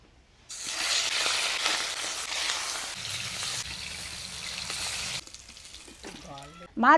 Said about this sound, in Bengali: কড়ার মধ্যে দিয়ে দিব তেল মাছগুলোকে ভেজে নেব